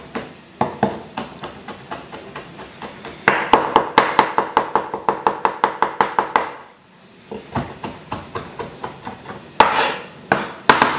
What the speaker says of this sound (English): the garlic, just give them a quick chop.